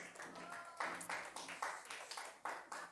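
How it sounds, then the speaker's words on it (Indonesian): A classroom of students claps for groups 2 and 3, quiet scattered claps repeating in an uneven rhythm across a few seconds. "tepuk tangan untuk kelompok 2 dan 3"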